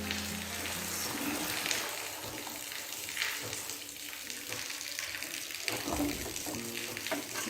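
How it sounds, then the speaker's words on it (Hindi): Water runs and splashes steadily into a pot of chicken haleem, a continuous rushing pour with faint clinks and kitchen noise throughout. "अब इसमें पानी शामिल करेंगे।"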